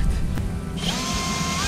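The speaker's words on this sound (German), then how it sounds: "Und wir strugglen gerade richtig, um das Eukalyptus zu bohren." Power drill driving a screw into hard eucalyptus wood while fitting a switch box for a small solar setup, the motor starting to whine and straining steadily under load through the second half.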